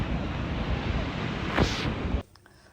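Surf and light wind at an Australian local beach make a continuous wash of noise with a brief rising gust, then cut off abruptly to near quiet just before the end.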